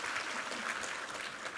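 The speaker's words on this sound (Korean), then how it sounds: "우리 하나님께 감사와 영광의 박수 올려드리겠습니다." Applause from a church congregation during a Korean Sunday morning service fills the space in a dense, steady wash, loud and continuous throughout with no pauses.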